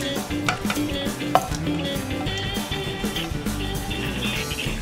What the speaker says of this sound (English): I'm going to add in my shrimp